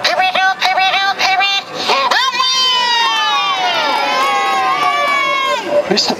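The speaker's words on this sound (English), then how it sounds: "let's have another big cheer to please Mr." Children's crowd at an outdoor May fair Punch and Judy show cheering and shouting loudly, a burst of screams and shrieks that rises and holds for several seconds after some earlier chatter.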